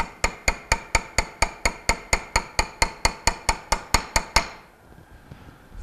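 A hammer taps a seal into place on a Bell & Gossett Series 1510 pump in about eighteen quick, evenly spaced, crisp metallic strikes, close and clear, before the tapping stops and a faint hum remains.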